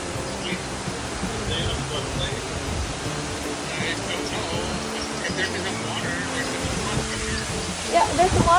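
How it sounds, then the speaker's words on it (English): Floodwater gushes steadily during a typhoon in Novaliches, Quezon City, a loud continuous broadband roar filling the whole stretch, close by, with a few faint clatters near the end. "Yeah, there's the water coming out here."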